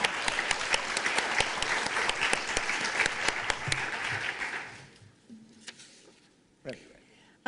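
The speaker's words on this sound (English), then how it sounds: "All right, let's give her a round of applause" Audience applause for an award recipient at a college awards ceremony: dense, loud clapping from a room of people for about five seconds, then tapering off to a few scattered claps and quiet room noise.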